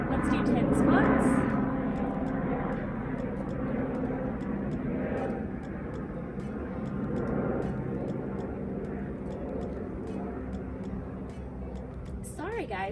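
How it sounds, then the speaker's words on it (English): Propeller airplanes flying overhead outdoors during a home workout, giving a steady, moderately loud engine drone across the whole stretch that swells slightly and then fades back. Faint ticking and a voice can be heard underneath. "this is like the time of day everyone wants to fly their plane today. So we're hearing those."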